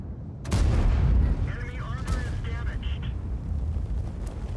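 Artillery fire in the tank game World of Tanks lands with one heavy boom followed by a lingering low rumble, with a faint voice underneath.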